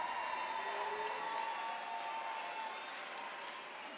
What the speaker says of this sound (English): let's get a nice round of applause out here from both of these fighters